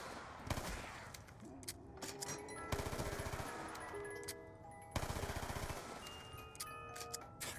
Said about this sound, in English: Fucking sniper rifle.